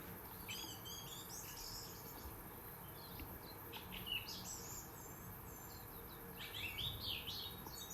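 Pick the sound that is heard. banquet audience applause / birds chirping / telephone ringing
birds chirping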